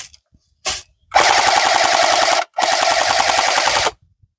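An airsoft PKM replica machine gun fires at an outdoor airsoft park: a brief burst, then two long sustained volleys of rapid, even mechanical rattling, close and loud with clean silences between them.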